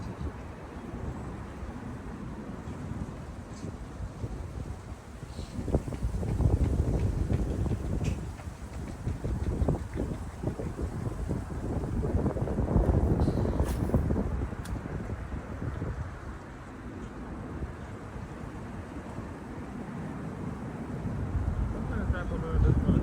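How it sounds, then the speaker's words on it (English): Strong, gusty wind along the Charles River while fishing, heard as a constant loud buffeting roar against the microphone that swells and eases throughout. "So as you hear with the wind, it's rough out here."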